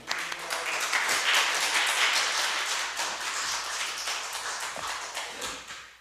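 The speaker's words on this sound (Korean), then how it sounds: "우리 박수 한번 보낼까요?" A church congregation at a Wednesday service gives a dense, sustained round of applause for an evangelist coming forward, steady and fairly close, tapering slightly toward the end.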